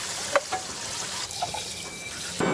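Water poured out during tea-making, a soft steady wash of liquid with faint clatters of cups or utensils, fairly quiet and continuous.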